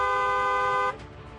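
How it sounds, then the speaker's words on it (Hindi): A car horn blares in one loud, sustained toot lasting nearly a second, then cuts off abruptly into quieter background noise. "हॉर्न बजाया जाए"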